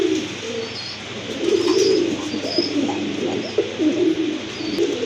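A pair of large pigeons coo repeatedly nearby at a pigeon seller's, low throaty calls rising and falling, with faint chirps in the background.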